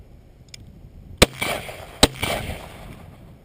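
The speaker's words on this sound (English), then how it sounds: "So there I threw the two shots in there." Two sharp gunshots fired outdoors during gun-dog steadiness training, spaced under a second apart, each a loud crack followed by a short echoing tail, with quiet ambience between.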